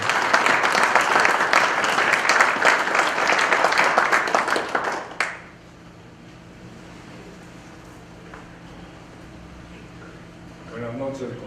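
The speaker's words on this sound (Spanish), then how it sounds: "Un aplauso, por favor." Loud applause from an audience at a national notarial conference in Cajamarca, a dense burst of clapping for about five seconds that stops abruptly, leaving quiet room noise before a voice starts.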